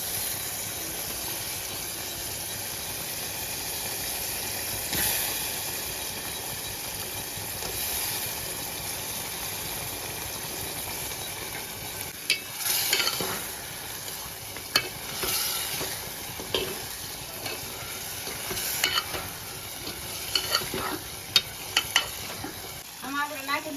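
Potatoes and peanuts go into a hot pan for Gujarati batata bhat, a soft steady sizzle and hiss with stirring scrapes and clatters growing busier toward the end; a voice talks over parts of it.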